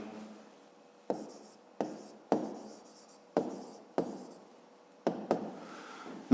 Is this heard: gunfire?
no